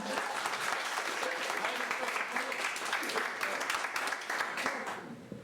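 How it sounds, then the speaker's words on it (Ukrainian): Sustained applause from wedding guests at a Ukrainian comedy-style wedding celebration, a dense, even wash of many hands clapping for over five seconds before fading at the end. "Група під підтримки від вас просимо аплодисментів."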